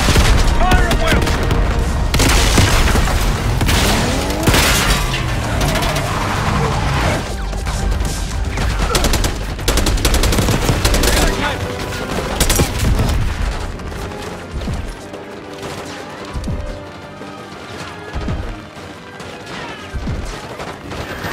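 Gunfire and explosions in the Call of Duty Black Ops 6 video game, dense rapid bursts of shots and heavy booms crowding together, loud and continuous, easing into scattered blasts toward the end, with faint voices mixed in.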